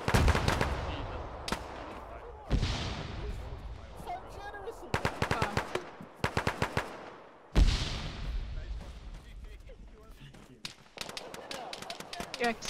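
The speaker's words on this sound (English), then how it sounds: "I'm gonna put a frag outside the wall." A military video game firefight with a frag grenade thrown outside a wall: rapid gunfire bursts and single shots crack throughout, a heavy blast lands midway, and players talk over the shooting.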